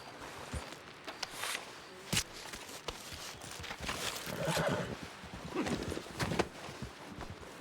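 A horse in the video game Red Dead Redemption 2 whinnies loudly over clip-clopping hooves, with several sharp hoof strikes and a second neigh later on, close and clear.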